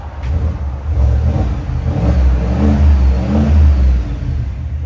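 Low, burbling V8 exhaust from a 2022 Cadillac Escalade 6.2L with a Borla S-Type system rises in several rev swells and settles back, loud and nearby, with no talking.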